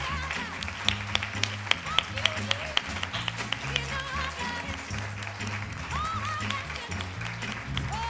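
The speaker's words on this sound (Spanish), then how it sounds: "para que recibas el aplauso que te mereces" An audience at a women's leadership forum round table applauds continuously at a moderate level, with some louder individual claps standing out near the start.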